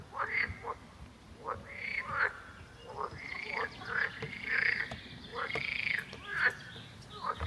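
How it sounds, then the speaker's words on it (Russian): Evening chorus of frogs along a forest trail near Tervete, many overlapping croaks and rising calls repeating irregularly at a moderate distance over a low continuous background hum. "начинается главный вечерний концерт"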